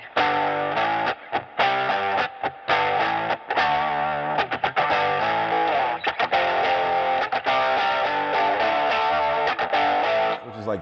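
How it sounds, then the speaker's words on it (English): An electric guitar played through a distortion pedal on a Nashville-style pedalboard, its mids boosted fully, rings out in loud, thick overdriven chords and riffs with short gaps, close and dominant throughout. "Put a little bit of other distortion."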